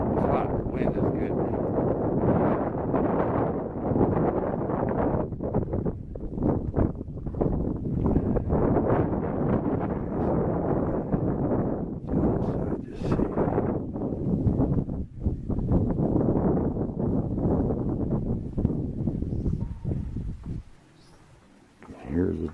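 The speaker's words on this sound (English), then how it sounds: "A little windy. It's good. It's hot. Wind is good." Wind blows steadily in the Mojave Desert near a lava tube, rushing and buffeting the microphone loudly for most of the span before briefly dropping away near the end.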